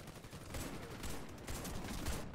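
Gunfire in the Warface video game on Nintendo Switch, a short, fairly quiet stretch of dense, continuous rapid shooting that blurs into a rattling wash of noise.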